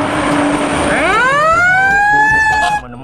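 A loud fire truck siren wails steadily, its pitch sweeping upward and holding high before cutting off abruptly.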